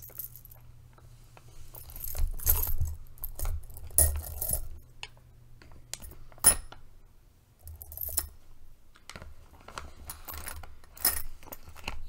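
Metal curtain rings handled up close, giving bright tinkling jingles in bursts with quiet gaps and a low hum underneath, no talking.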